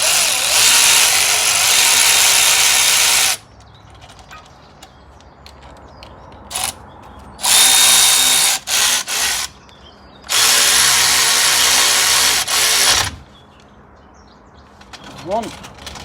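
A power tool spins a car's front brake caliper bolts back in on a Volvo V70, three loud close bursts of whirring separated by quiet pauses, with a faint voice near the end.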